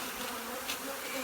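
A dense swarm of guard bees from a very large hive drones steadily and loudly nearby, a continuous buzzing with no voices.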